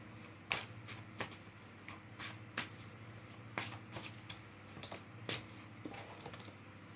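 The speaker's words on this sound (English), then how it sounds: "we're going to get you an angel card for that" Angel cards are shuffled for a card reading: quiet, close, repeated papery riffles and flicks in an irregular rhythm.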